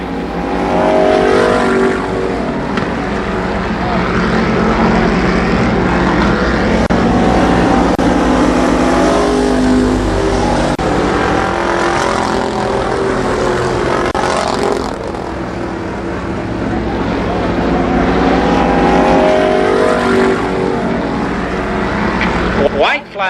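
Stock cars race at Columbus Motor Speedway in 1993, one sliding sideways in turn four, with a continuous loud, layered engine roar rising and falling as packs pass while an announcer talks over it.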